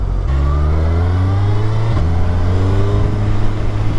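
A 2022 Suzuki Hayabusa motorcycle engine revs loudly and continuously on a test ride, pitch climbing through the gears with a quick shift near the middle, close and constant with wind rush.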